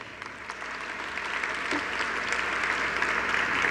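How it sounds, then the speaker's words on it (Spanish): Audience at a construction industry congress on gender equity gives steady, moderately distant applause that swells slightly and continues throughout. "Aquí está, entonces, para ella un fuerte aplauso."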